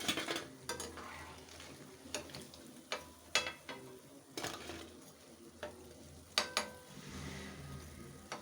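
Medu vada deep frying in oil until golden, with a soft bubbling sizzle under frequent sharp clinks and scrapes of a utensil against the pan.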